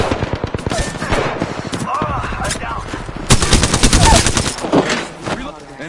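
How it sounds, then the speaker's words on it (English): Rapid bursts of automatic gunfire in a PS4 shooter game hit the player, loud and close, continuous rattling volleys with brief gaps and rising intensity toward the end. "Shots fired, and they're hitting me."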